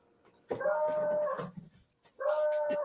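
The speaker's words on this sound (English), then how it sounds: "Can you hear the dog or no? I can hear the dog." A dog whines in two long, drawn-out whimpering cries with a brief pause between them, close and fairly loud, with no talk over it.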